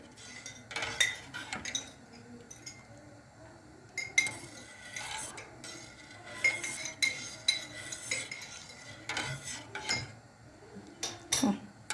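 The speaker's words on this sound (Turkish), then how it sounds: "Karıştırayım." A spoon stirs dried apricot jam in a pot, scraping and clinking against the metal in uneven close bursts at low volume, with no one speaking.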